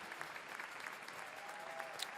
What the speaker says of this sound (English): we hear the reaction from the home crowd